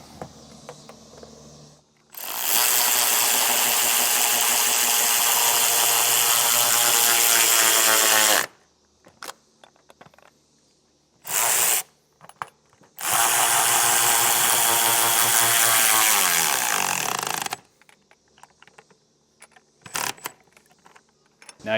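A power tool whirs loudly in two long runs of several seconds each as it spins a nylock nut down tight on a trailer cam-action latch hasp, with short bursts and quiet handling noises between them.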